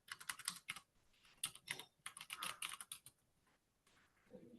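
Rapid clatter of fingers typing on a computer keyboard, close and fairly loud, in bursts of keystrokes separated by short pauses.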